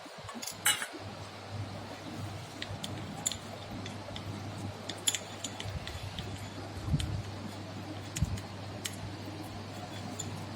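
Gram flour and alum water are mixed in a bowl, giving soft, irregular clinks and scrapes of a spoon against the dish over a low steady background hum.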